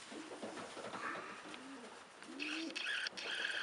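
Racing pigeons coo softly in a pigeon loft, several low rolling coos rising and falling amid faint chirps and ambient loft noise, moderately close and without speech.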